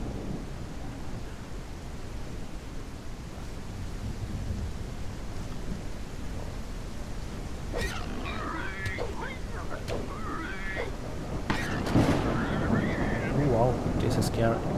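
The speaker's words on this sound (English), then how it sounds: "Oh, the thunder." Thunder rumbles through a stormy night in Gothic 1 on Unreal Engine, a low continuous roll building toward a louder crack near the end, with rain-like hiss beneath and game effects layered over it.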